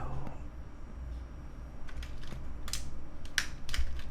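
Keys clattering on an optical mechanical keyboard with ABS plastic keycaps, a soft run of close clicks that picks up in the second half, quiet and with no talking.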